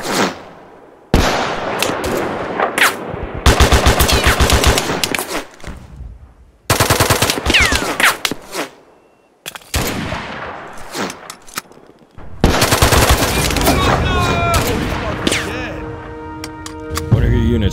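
Units in the game Mud and Blood open fire in loud bursts of machine-gun rattle and rifle shots, broken by short silences, with radio-style voices calling out between volleys.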